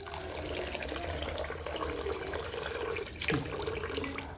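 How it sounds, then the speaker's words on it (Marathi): White rinse water poured off soaked sago pearls in a home kitchen, a steady close trickle and splash of water with a brief louder slosh near the end, no talk. "आता हे जरासं पहिलं पांढरे पाणी असतं ना ते काढून टाकायचं"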